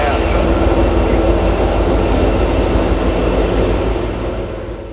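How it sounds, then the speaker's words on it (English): A train rumbles past the hills at the edge of Austin, Texas. The roar is loud and continuous, then slowly fades toward the end. "each day the train horn screams out across the hills, getting louder as it passes through"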